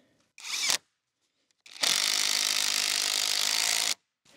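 A power driver with a T40 bit runs large anchor bolts into wood, heard as a short whirring burst followed by a longer, steady, loud drive lasting about two seconds, close by with no talk.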